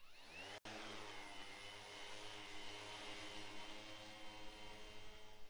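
An aircraft engine runs up beside the earthen remains of an ancient Shang dynasty city wall, giving a steady, continuous propeller-like drone that cuts out for an instant near the start, then keeps going with no speech.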